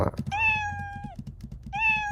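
A cartoon cat in a Scratch video game meows when struck by another character, two clear synthetic meows a moment apart over faint background clicks and soft thumps.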